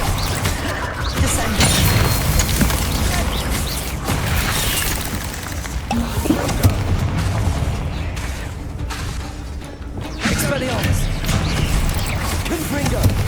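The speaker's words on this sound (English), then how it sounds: "Descendo." Heavy combat impacts from a Descendo spell slamming a target down in Hogwarts Legacy, a long run of booming crashes and thuds with swells and a brief dip near the end, voices and game sounds mixed underneath.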